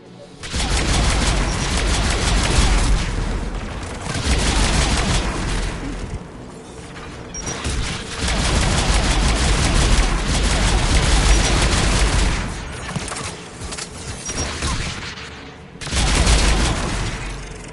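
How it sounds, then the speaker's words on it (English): AA guns firing in Mass Effect 3, heavy booming gunfire coming in loud repeated waves separated by short quieter gaps over about eighteen seconds. "AA guns ahead of us."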